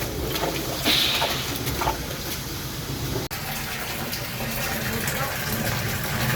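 Water gushes into a septic tank drain while it is being cleaned, a steady broadband rush that carries on for several seconds, with voices talking nearby.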